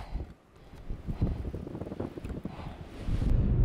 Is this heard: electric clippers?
no